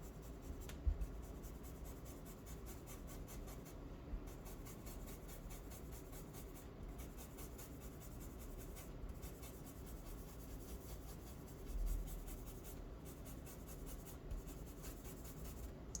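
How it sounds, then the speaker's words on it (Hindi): Pencil shading is blended on paper for a still life drawing, a soft continuous rubbing and scratching close to the mic that runs for the whole stretch in quick repeated strokes, with no talking. "सबसे पहले मैं नीचे वाला डार्क एरिया ना इसको ब्लेंड कर रहा हूँ।"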